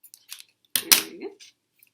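Tape being pulled and pressed onto a handmade paper viewfinder: a few light crinkles, then a short burst of sticky tearing and rustle, close and brief.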